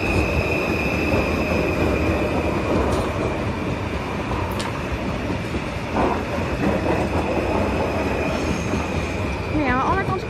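Trains at Eindhoven Centraal station rumble steadily past with a loud, continuous roar of wheels on rails, a high squeal running through and faint clicks, while people talk faintly in the background.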